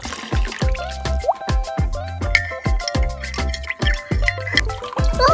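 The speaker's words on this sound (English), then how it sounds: "We'll mix gelatin with some warm water." Gelatin is stirred into warm water for miniature fruit jelly, making a quick series of close, distinct liquid drips and splashes in an uneven rhythm with no talking.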